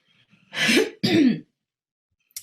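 Two short, rough throat-clearing coughs in quick succession, close and fairly loud, followed by near silence and a brief faint sound at the end.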